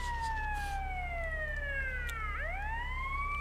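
A police car siren in GTA Vice City wails loudly and up close in sweeping rising and falling tones, with a sharp dip and rebound partway through, and nobody talking over it.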